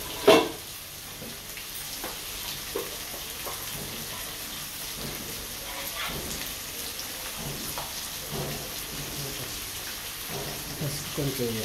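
Flattened rice tossed with turmeric fries in a pan for upma, a continuous crackling sizzle with scraping stir strokes over a soft steady background, and no talking.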